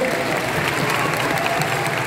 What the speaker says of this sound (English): can we have a round of applause for our fabulous volunteers